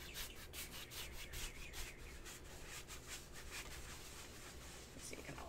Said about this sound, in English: just kind of really scrubbing it in like that